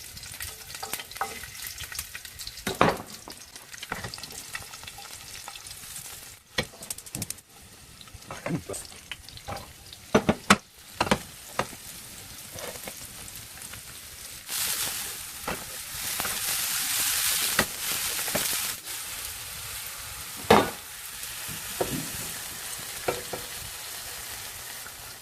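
Mushrooms and garlic cook over a wood-fired charcoal grill with a soft, crackling sizzle, broken by scattered clicks and clatters of handling, growing louder and hissier toward the middle.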